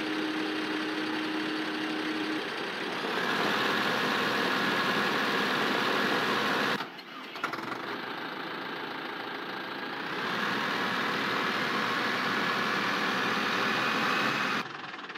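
Tractor engine in Farming Simulator 15 drones steadily while plowing a field, a continuous mid-pitched hum with a brief dip partway through before resuming at the same level.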